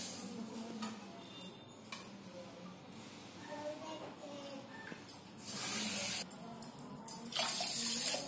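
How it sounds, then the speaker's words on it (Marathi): Water poured from a bowl onto sugar to make syrup, a steady close splashing stream that grows louder toward the end, with people talking nearby. "दोन वाट्या पाणी घालू."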